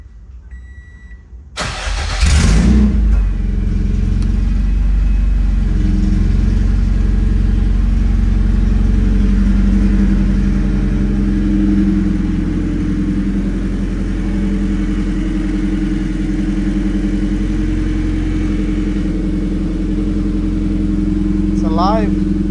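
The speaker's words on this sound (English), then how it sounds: "let's try to start it one more time." Near the start, the K24-swapped 2018 Subaru BRZ engine cranks and fires. It then settles into a steady, loud, close idle that runs uninterrupted. A voice is heard briefly.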